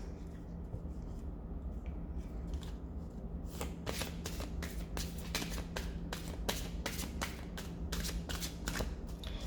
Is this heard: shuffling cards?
yes